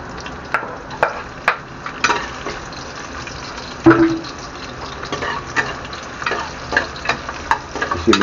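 Garlic fries in a pan with a continuous crackling sizzle, punctuated by repeated scrapes and knocks of stirring, close and moderately loud.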